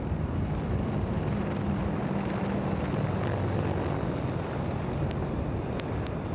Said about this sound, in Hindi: 3 अपाचे हेलीकॉप्टर विक्ट्री फॉर्मेशन में